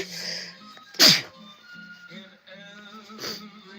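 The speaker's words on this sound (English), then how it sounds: "I'm getting ready to sneeze again." A single sharp, loud sneeze bursts out close by, surrounded by quiet background sounds and faint tonal hum.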